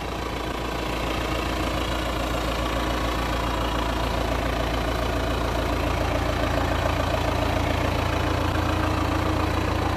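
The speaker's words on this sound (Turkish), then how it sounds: "Traktörümüz gördüğünüz üzere Klas 2007 model." A 2007 Claas Ares tractor with 24 forward and 24 reverse gears idles steadily on a sloped farm field, a close, continuous low diesel rumble with faint knocking throughout and no talk.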